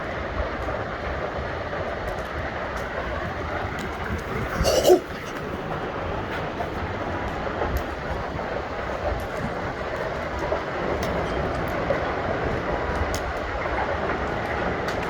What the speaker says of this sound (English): That sound you're hearing, that is hail.